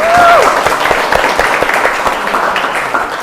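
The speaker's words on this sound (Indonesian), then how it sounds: "tepuk tangan dulu dong untuk kita semua" An audience at a GenRe youth talk session claps together in loud, dense applause, with a brief whoop over the opening moments before the clapping carries on evenly.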